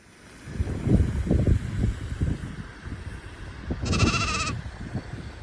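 Sheep bleat repeatedly on a sheep farm raising Romanov, Hissar and South African breeds, several close, loud calls in a row over light wind noise, with no talking.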